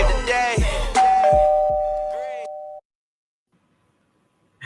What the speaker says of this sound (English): It's a ding dong for me.